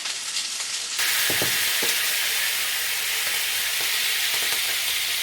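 Wine poured into a hot pan sets off a sudden loud sizzle that settles into steady frying and hissing, close by and with no talking.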